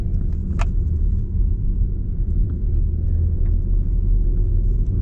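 A car drives along a road through the Swiss countryside, its engine and tyre rumble steady and low throughout, with a faint brief tick near the start and no talk.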